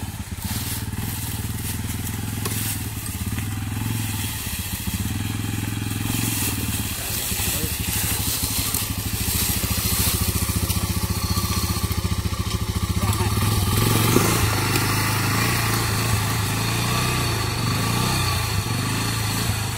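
Honda 300ex and 250sx ATVs, one a three-wheeler, ride through woods on a farm, their small engines revving and droning steadily close by, with people talking over the engine noise.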